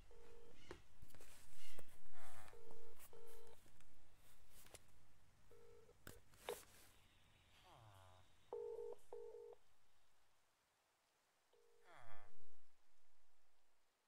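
Telephone keypad dialing tones during a phone call: short paired beeps in small clusters separated by pauses, plus other brief sounds and a stretch of near silence.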